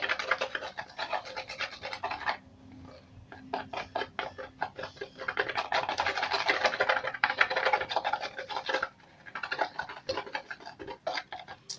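Fluffy slime made from glue and shaving foam is stirred in a container, giving a steady, close, fine scratching and sticky patter with brief pauses and no talking.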